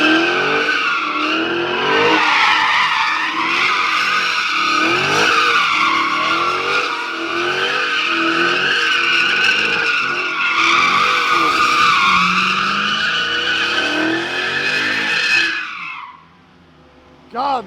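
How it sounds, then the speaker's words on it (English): A Ram TRX pickup with stock exhaust and its doors removed pulls hard on a highway, a loud, close engine roar climbing through several gear shifts before cutting off abruptly near the end. "God, that car is so freaking loud"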